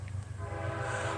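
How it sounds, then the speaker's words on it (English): A train rolls past a primitive campsite in Ohio, a steady close rumble with a sustained horn-like tonal drone over it, continuous throughout the short stretch. "We got a train gonna roll by."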